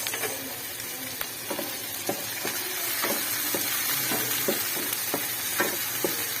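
Tomatoes sautéing in a pan give a continuous soft sizzle, with regular scraping taps of a spatula stirring through them at close range and no talking.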